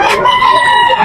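A gamefowl stag crows at a poultry market, one short strained call, loud and close, with a hint of voices in the background.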